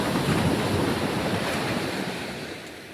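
Sea waves beside Chaitya Bhoomi in Dadar, Mumbai wash and roar continuously with wind noise buffeting the microphone, fading slightly toward the end; no voices.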